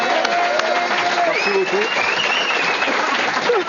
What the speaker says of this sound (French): Bon, bravo, on peut l'applaudir en tout cas.